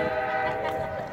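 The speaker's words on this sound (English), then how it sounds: "Trains loud." Train horn sounding near an outdoor rally in Raleigh: a loud, steady, sustained multi-tone blast that holds for the whole moment with no gaps, with no talking over it.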